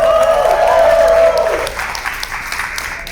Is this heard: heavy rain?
no